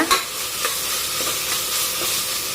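Mint leaves sautéed in a pan for vegetable biryani, a steady soft sizzle with light stirring scrapes and a brief clatter near the start, no talking.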